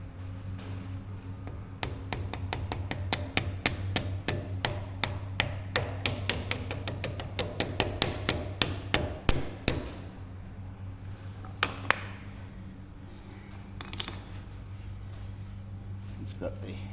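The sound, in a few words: hammer tapping an axle through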